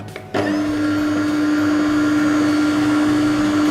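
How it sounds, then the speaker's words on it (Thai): A juice extractor separates butterfly pea flower pulp. Its electric motor starts abruptly and runs as a loud, steady hum with a constant whine that continues to the end. "จากนั้นก็นำมาเข้าเครื่องแยกกากนะครับ"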